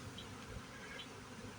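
Honey bees buzz steadily around a hive after a swarm, a close, continuous hum with no talk.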